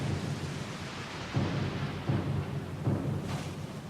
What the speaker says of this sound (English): Lost and alone in the storm?